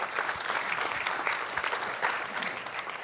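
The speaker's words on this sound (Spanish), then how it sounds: "Damos ese aplauso al Señor." Congregation applauding in a church service, a steady dense wash of clapping at moderate level throughout, with no clear voices over it.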